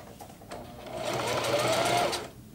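Singer HD sewing machine running a long straight stitch on nylon fabric, a close motor whir that swells louder, holds for about a second, then cuts off abruptly with no one speaking.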